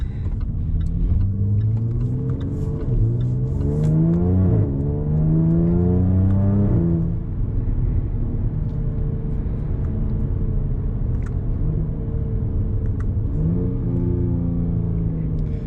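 A Jaguar F-Type engine revs repeatedly while being driven, its pitch climbing through gears with rising and falling sweeps, a loud throaty rumble heard from inside the car.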